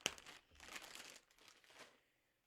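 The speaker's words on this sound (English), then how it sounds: "I'm just going to fold it in quarters" A single baby wipe being folded into quarters for a stamping and ink coloring session, giving a few close, soft crinkling rustles that fade out into quiet.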